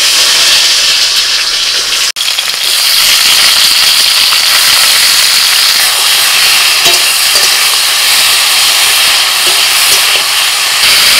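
Tomatoes dropped into hot mustard oil in a pan, a loud, dense, steady sizzle with a sharp clatter at the start and occasional stirring, no voice.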